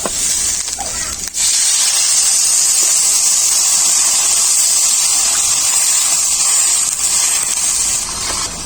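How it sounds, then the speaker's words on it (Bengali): Water poured into a cooking pot makes a loud, steady hiss and gush that runs continuously from start to finish, with no talk over it. "এরপর পরিমাণ মতো জল দিয়ে দেবো।"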